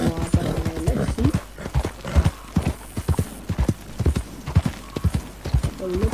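Horse hooves clip-clop at a slow walk in Red Dead Redemption 2, a steady close rhythm of distinct hoof strikes with a brief whinny-like sound early on.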